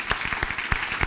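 Applause from a church congregation, a brief burst of irregular hand claps at close to medium distance.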